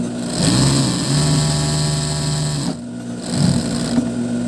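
Several old, long-unused sewing machines running in close, loud whirring bursts that stop abruptly partway through, then start up again after a short pause.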